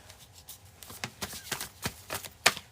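Tarot cards are shuffled quickly nearby, a rapid irregular run of soft papery riffles and taps, fairly quiet, ending in a sharper flick.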